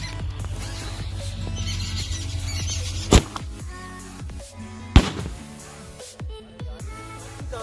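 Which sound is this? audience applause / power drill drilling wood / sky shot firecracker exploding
sky shot firecracker exploding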